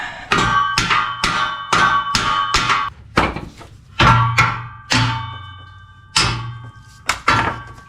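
Loud, close hammer blows ring out on metal car parts while an old 5.0 V8 and its exhaust are pulled from a Fox-body Mustang for a Coyote swap, coming in quick bursts of several strikes separated by short pauses.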